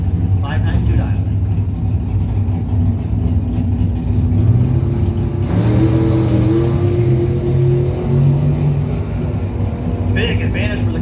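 A 1971 Camaro drag car launches down the strip at a points race event, its engine roaring loud and then fading away while an announcer talks over the PA.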